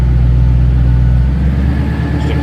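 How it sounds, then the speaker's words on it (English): Rear exhaust rumble of a 2006 Saleen S281 supercharged Mustang convertible, a loud, steady deep idle heard up close from behind the car, with no talking. "Slip around to the back so you can hear the rumble out of this."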